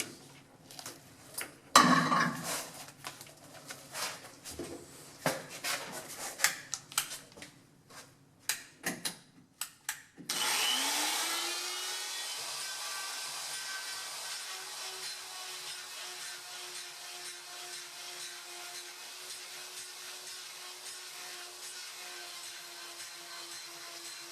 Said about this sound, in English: now I'm going to take a grinder. I'm going to get rid of all that rust on the inside